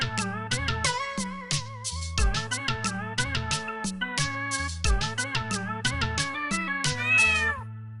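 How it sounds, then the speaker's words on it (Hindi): Repeated cartoonish cat meows set rhythmically into a Hindi children's nursery rhyme, clear and fairly loud over a bouncy musical backing, with no speech. "बिल्ली करती म्याऊं।"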